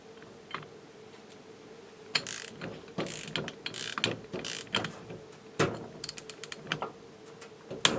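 A torque wrench fitted with a 19 mm socket tightens a Bidalot six-disc clutch on a Derbi Euro 3 engine, giving bursts of rapid, close ratchet clicks in quick irregular strokes, with no talking.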